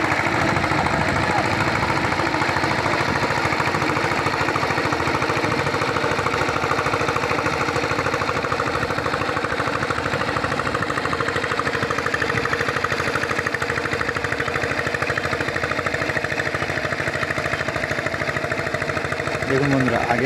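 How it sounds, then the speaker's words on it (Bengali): A farm motor pump drones steadily as it draws water into a rice field, a continuous mid-pitched engine hum with vibration that runs throughout, close and loud. "তো মোটরের সাহায্যে জল উঠছিল, দেখতে পাচ্ছেন জল আস্তে আস্তে ভর্তি হয়ে যাচ্ছে জমিতে।"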